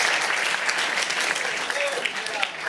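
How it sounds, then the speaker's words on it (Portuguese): Audience applause at a Portuguese stand-up comedy show, a dense steady clatter of many hands clapping throughout, loud and sustained from start to finish. "Palmas para a Dona Teresa."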